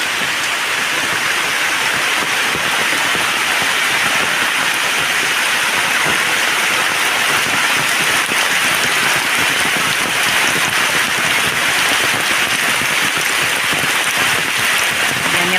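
Heavy typhoon rain pours down steadily and loudly, a dense, unbroken hiss of drops hammering surfaces nearby.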